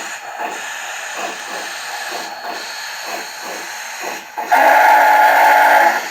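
Model PRR 2-8-8-2 steam locomotive sound system playing its alternative whistle, a sudden loud sustained whistle tone that cuts in after a stretch of rhythmic puffing chuffs.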